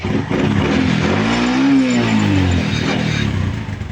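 A motorcycle engine with a carburetor overflow problem runs loud and close after a kick start, the throttle swelling the revs up and back down in a rough, continuous drone.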